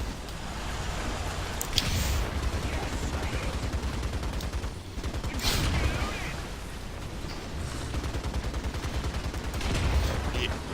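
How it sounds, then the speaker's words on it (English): Machine gun fire from an M3 Stuart tank in a video game, heard as dense, continuous rattling bursts with sharp cracks, loud and sustained throughout with little pause. "Yeah, you just seen the machine guns critted him."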